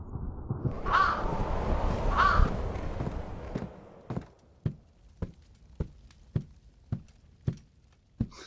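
A raven in an Amnesia mod game gives two loud, harsh caws over a dark rumbling ambience, followed by a slow, evenly spaced series of sharp knocking thuds.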